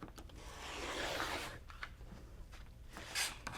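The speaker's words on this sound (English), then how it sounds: "So to square this up, I'm just going to cut right on the very edge." Scissors or a rotary cutter trimming along the edge of quilted fabric on a cross stitch finishing project, heard as close, soft rasping cuts with a longer continuous stroke early on, then shorter snips.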